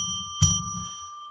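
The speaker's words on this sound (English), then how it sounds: "we're going to ring a bell 3 times to declare sacred space" A bell rung to declare sacred space during a radio broadcast gives one sharp strike with a brief ringing tail, set over a steady tonal hum and low background noise.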